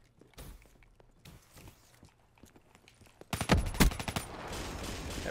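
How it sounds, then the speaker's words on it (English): Gunfire in the Black Ops 3 hardcore free-for-all multiplayer match: quiet footsteps and light clatter, then a loud close burst of rapid automatic shots and echoing impacts. "somebody's shooting at me"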